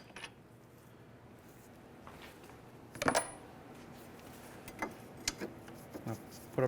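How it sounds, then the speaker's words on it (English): A bolt comes out of the lower steering knuckle of a 2003–2011 Honda Element, heard as a few sharp metallic clinks and ticks against a quiet garage background, spaced irregularly. "now we can remove our bottom bolt"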